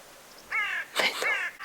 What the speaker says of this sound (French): Il y a eu toutes les corneilles qui sont envolées d'un coup